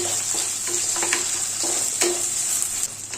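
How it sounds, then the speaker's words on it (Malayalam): Curry leaves and green chillies stirred and sautéed in hot oil for a mango pickle give a steady close sizzle, with repeated scraping stirs of the spoon across the pan. "കറിവേപ്പിലയും അതുപോലെ തന്നെ പച്ചമുളകും അങ്ങോട്ട് ചേർത്ത് കൊടുക്കാം. അത് നല്ലപോലെ ഇളക്കിയുണ്ട് വഴറ്റിയുണ്ട്"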